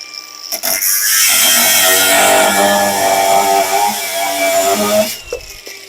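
Procraft industrial AG125B cordless angle grinder spins up to a loud, high whine for about five seconds, pitch dipping slightly under load, then winds down abruptly.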